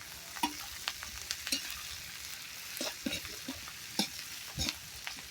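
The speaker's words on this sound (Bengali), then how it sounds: "এই যে গরুর মাংস চার কেজির মতো মাংস তো এইগুলো ভাজা হোক" About four kilos of beef fry in a pot for a village-style curry, a quiet bubbling sizzle punctuated by frequent scraping and knocking stirs, close and with no talking.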